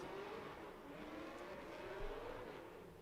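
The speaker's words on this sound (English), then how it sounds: "Listen to the V8 screaming that car" A V8 drift car at an international drift championship qualifying round accelerates hard, its engine a sustained, rising scream with gliding pitch that holds steady and loud throughout, no voices.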